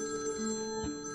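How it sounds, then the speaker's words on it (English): A home telephone rings with a steady electronic tone that holds through the short moment, moderately loud against a quiet room, with no talking. "Immediately afterward, the home phone started to ring"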